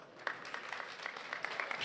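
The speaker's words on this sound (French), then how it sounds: "Je pense qu'on peut l'applaudir." Audience applause at a talk on savings-product labelling at the Onze Bis Festival: a faint, steady wash of many hands clapping, with a few sharper claps standing out, lasting about two seconds.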